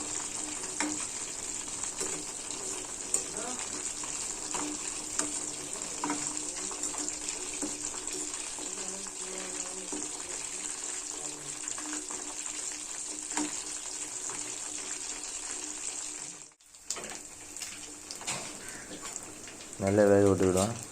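Chilli chicken pieces fry in hot oil with a steady, even sizzle that continues for a long stretch, broken by a brief pause and some stirring or handling noise near the end, with faint speech underneath.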